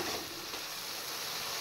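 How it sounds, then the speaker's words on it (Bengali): Masala spice paste sizzles and fries steadily in a pan, a continuous close crackling hiss with no talk. "মশলা ফ্রাই হয়ে গেছে"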